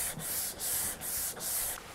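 A guitar fretboard being sanded with 180 grit paper on a hard block: five quick, even back-and-forth rasping strokes, close up and fairly soft.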